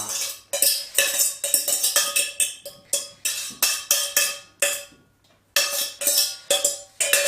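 Buckwheat crepe batter being stirred with beaten eggs and sugar, a close, steady clinking of a utensil scraping and tapping against a bowl in quick rhythmic bursts with a short pause.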